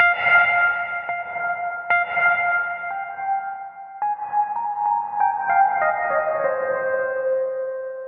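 Hall reverb setting on a Slate Digital Stellar Echo SD-201, long sustained tonal notes washing into each other with a lingering, spacious decay, steady and fairly loud with no talking.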